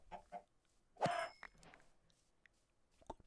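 Chicken clucking in the Minecraft video game, a few soft short clucks with one louder squawk in the middle, quiet and close with gaps of silence between.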